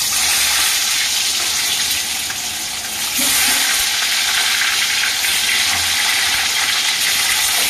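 Peeled boiled eggs fry in hot oil for an egg curry, with a loud continuous sizzle and crackle that surges briefly as they are stirred in the pan.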